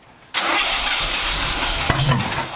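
A car engine with flames shooting from its intake bursts into a loud, steady roar after a brief quiet moment, holding close and full with a sharp pop partway through.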